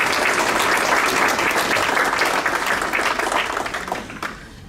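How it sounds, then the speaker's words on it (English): An audience at a school district staff awards ceremony applauds an honoree. The clapping is dense and sustained, then fades out near the end. "Let's give him another round of applause"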